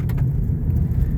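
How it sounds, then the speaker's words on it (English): A car drives fast down a bumpy rural road, its interior filled with loud low road rumble and engine drone, with a few light rattles near the start and no talk. "this is a little bit of a bumpy road, probably because I'm driving a little bit too fast"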